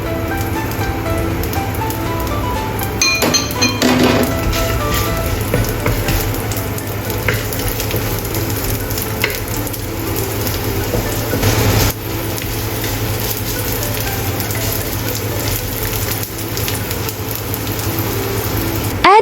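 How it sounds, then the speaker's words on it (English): Ginger slices stir-fry in a hot pan, with a steady loud sizzle, occasional scraping stirs and a few sharper clatters, and no voices. "Stir-fry ginger slices until fragrant."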